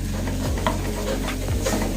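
Glutinous rice being stirred by hand in a basin off the stove for Teo Chew png kueh, a sticky mixing sound with soft scrapes repeating at a steady pace over constant background noise.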